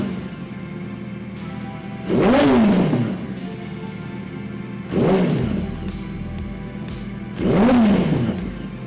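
An old superbike engine is revved three times with the throttle snapped open and released, each loud, close rev rising sharply then falling back to a low, even idle.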